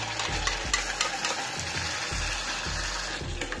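Onion and tomato puree goes into a hot pan for chhole gravy, sizzling and frying steadily while a utensil scrapes and stirs in short repeated strokes, close and continuous.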